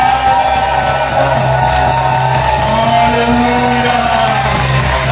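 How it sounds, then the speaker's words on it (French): A congregation at a youth week gathering shouts and whoops with cries of joy, a dense, loud crowd roar sustained throughout with overlapping voices. "Est-ce qu'on peut pousser les cris de joie?"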